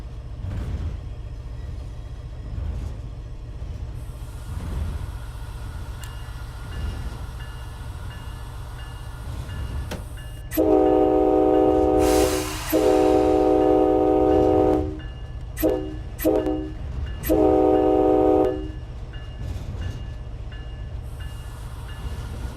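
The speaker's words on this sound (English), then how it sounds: "The horn is like different in here." Train Sim World 2 locomotive horn sounds in a series of loud, sustained blasts, one long and several shorter ones, over a steady rumbling engine and rail background.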